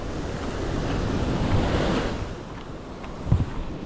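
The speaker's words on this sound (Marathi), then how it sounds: "हे बघा लाट आहेत पण एवढ्या वरती येणार नाही" Sea waves break against tall rocks on a shore in a steady, rushing wash that swells and eases, with wind buffeting the microphone and a closer splash near the end.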